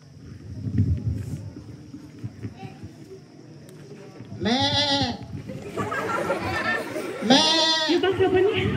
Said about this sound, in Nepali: यो बाख्रा पनि कति कराको